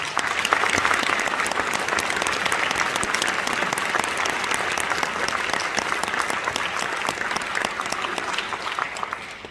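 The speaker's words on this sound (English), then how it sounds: "Would you give them another round of applause, please?" Sustained applause from a large audience at an honor band concert, dense steady clapping that stays loud and near throughout with no talk over it.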